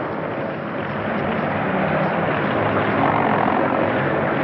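Aircraft engine droning steadily and loudly at close range, a broad sustained roar with no voices over it.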